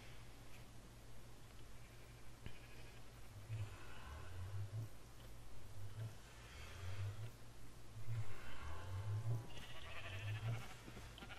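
Sheep in the Minecraft video game bleat several times in short, low, wavering calls spaced a second or two apart, fairly quiet over faint background sound.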